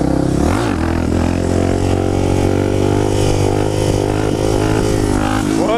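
A Suzuki 650 DR supermotard motorcycle accelerates through the gears, its single-cylinder engine revving up in a rising drone and shifting between gears, loud and close.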